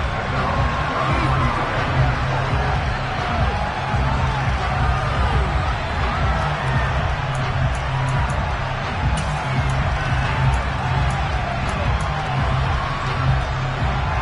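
A video game stadium crowd in Madden 23 during a Packers game keeps up a steady, dense roar of cheering and babble throughout.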